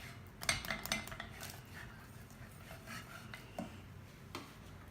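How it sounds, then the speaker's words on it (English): A metal whisk stirs homemade cream of chicken soup substitute in a pan, making quick, light scraping and clinking against the metal in uneven bursts, fairly soft and close. "this whisk fits nicely up in the corners of this pan"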